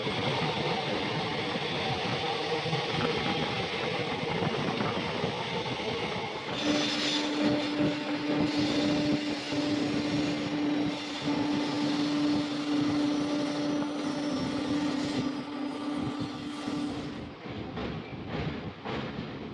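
An empty freight train rumbles steadily through a tunnel in India, a loud continuous roar with a sustained tonal hum and rhythmic clatter that drops away near the end.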